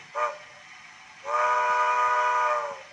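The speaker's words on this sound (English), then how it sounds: "Short whistle, sorry." A model train sound decoder gives a brief short-whistle toot, then a longer steady whistle tone, clean and tinny with nothing else around it.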